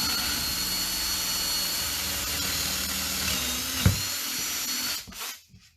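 A power drill whirs steadily at high speed with a constant grinding hum, boring with a large 3/8-inch bit, a small knock near the end, then winds down and stops.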